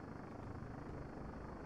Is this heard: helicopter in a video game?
yes